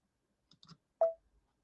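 A few light clicks of a computer mouse at a desk, followed by one sharper, louder click, close and isolated in quiet.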